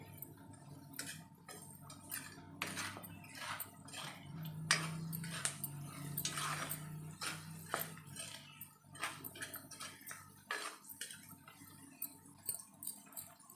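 A utensil scrapes and clinks repeatedly against a pan of tempering frying on low heat, in irregular strokes, close and fairly quiet, over a low background hum.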